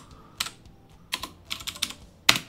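Typing on a computer keyboard on a Windows 10 PC, a handful of sharp separate key clicks spaced unevenly, with the last tap loudest, in a quiet room with no talking.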